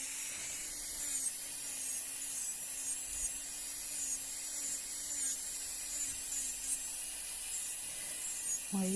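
An electric nail drill whirs with a steady motor whine while filing down natural nails, its rasping grind continuous and close.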